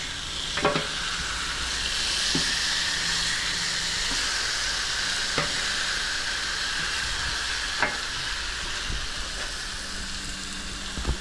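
Pork chops sizzle on a flat-top griddle, a steady loud hiss of frying with a few sharp clicks and scrapes from turning the meat.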